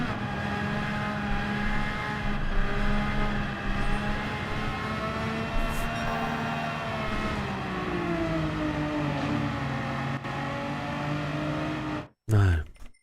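A Datsun's engine drones steadily in the Gran Turismo 7 racing game, a sustained whine that rises and falls in pitch with revs, then cuts off abruptly before a short loud burst at the end.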